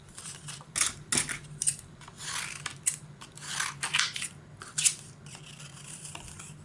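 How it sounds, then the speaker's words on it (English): Scissors snip through paper in a run of quick, crisp cuts, some close together and some spaced apart, close to the listener with no talking. "if you will turn your paper under your scissors, instead of turning your scissors, you'll get a much better cut"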